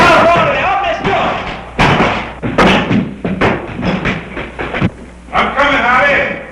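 Heavy fists pound and slam against a door in loud, close, irregular bursts of thuds, with frantic shouting voices between and over the blows.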